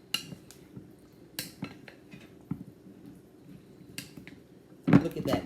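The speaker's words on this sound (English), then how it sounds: "Just gonna mix this in." Pasta salad being mixed with Italian dressing in a bowl, with sparse clinks and taps of a utensil against the dish, soft and close, ending in a louder clatter.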